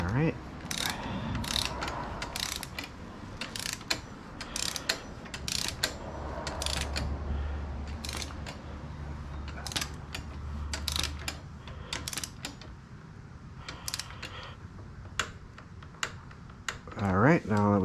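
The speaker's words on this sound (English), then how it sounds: "We can now torque down this guy here." Ratchet wrench clicking as a bolt is torqued down during assembly of a GPX FSE250e dirt bike, with rapid repeated ratcheting clicks in bursts alongside mechanical clatter and a low hum.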